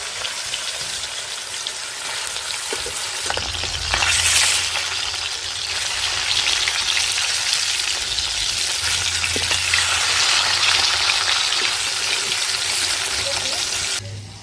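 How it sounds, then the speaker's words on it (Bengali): Pieces of rohu fish sizzle loudly in hot oil while being fried for a bottle-gourd curry. The crackling frying noise grows stronger a few seconds in and then holds steady and close until it cuts off near the end. "তেল গরম হয়ে গেছে, মাছ দিয়ে দেব।"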